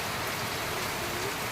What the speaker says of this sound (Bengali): দুপুরের পর থেকেই শুরু হয়ে গেল বৃষ্টি, অনেক জোরে বৃষ্টি হচ্ছিল।